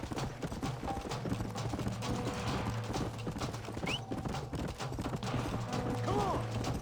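Horse hooves clip-clop in a steady, rhythmic gallop in the Red Dead Redemption video game, loud and continuous, with a brief whinny and some mechanical clicks in the background.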